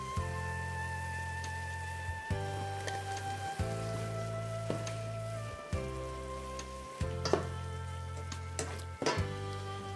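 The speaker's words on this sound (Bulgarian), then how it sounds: "Разбърквам добре." Potatoes and tomatoes sizzle and fry in a pan while being stirred, a continuous crackling hiss broken by scraping stirs and a few sharp clinks, close by.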